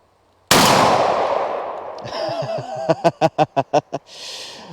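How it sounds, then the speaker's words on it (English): Shotgun slugs fired at a 10-inch steel target plate set about 35 to 40 yards out: one loud blast at the start with a long rolling echo, then a quick string of six sharp, evenly spaced bangs or impacts. "Slugs are loaded up. We'll see if we can hit that 10-inch plate."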